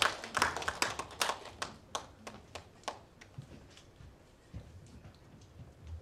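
Scattered audience clapping at a Korean folk song contest award ceremony, bursts of claps that thin out and fade over a few seconds, fairly faint.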